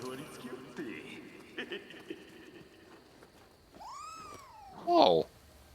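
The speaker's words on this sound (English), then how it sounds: "Why do I hear a kitty?" A cat meows in the video game Nioh 2: a drawn-out, rising and falling meow, then a louder, sharper second meow near the end, over steady game ambience with earlier clattering sounds.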